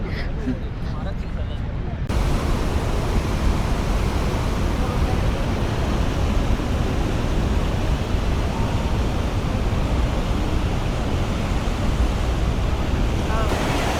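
The horseshoe-shaped cascade of Niagara Falls roars as a dense, steady wall of rushing water, loud and continuous for the whole stretch, with wind buffeting the microphone and some speech partly buried underneath.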